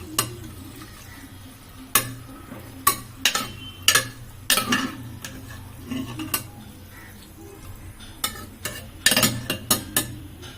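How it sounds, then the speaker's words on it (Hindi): Raw minced meat and onions frying in a pan, with a spoon scraping and clinking against the metal at irregular intervals over a low continuous sizzle, close up and without talking. "उसके बाद मैं कुछ देर उसे ऐसे ही भून लूंगी, कुछ देर में इसे रॉ ही भूनूंगी सिर्फ प्याज के साथ"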